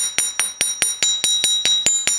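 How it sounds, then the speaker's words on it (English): A hammer strikes wire laid on a bench block while shaping earrings, ten sharp metallic taps in an even, steady rhythm, close and fairly loud with a brief ringing after each. "just let the weight of the hammer come down on it"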